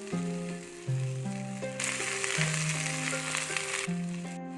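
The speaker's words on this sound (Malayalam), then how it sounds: "അരിഞ്ഞു വെച്ച സവോള അതിലേക്ക് ഇട്ട് കൊടുക്കാം" Chopped onions hit hot oil in a curry pan and give a sudden, steady sizzling hiss that lasts a couple of seconds over continuous background music.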